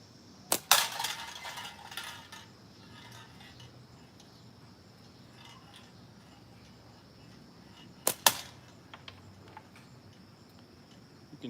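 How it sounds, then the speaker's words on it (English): Wasp Enzo Pro airgun pellets striking cans that rattle loudly, heard as two sharp bursts of impact clatter several seconds apart in a quiet outdoor setting with no talking. "can hear that it's not penetrating the can all the way through on every one because it's rattling around like crazy"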